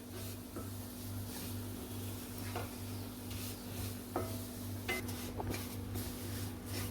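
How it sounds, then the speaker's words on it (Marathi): Semolina roasting in a pan over a medium gas flame, stirred with a spoon, with occasional light scrapes and clinks over a steady low hum and faint background noise. "मीडियम गॅसवरती चांगला असा परतून घेतलेला आहे आपण रवा चांगला फुलत तोपर्यंत असं भाजून घेतलाय"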